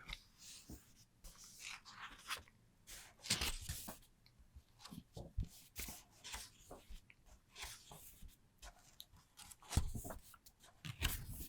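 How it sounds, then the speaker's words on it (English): Soft, close rustles and swishes of book pages turning one after another in a quiet room, with occasional louder flips. "let me just do some page turning until I get to the page I need to"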